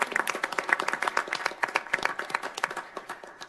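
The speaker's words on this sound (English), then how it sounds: "Let's give her a round of applause." An audience at a city council meeting gives a short burst of brisk, dense hand clapping that tapers off slightly toward the end.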